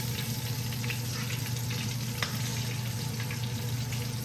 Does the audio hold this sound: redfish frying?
yes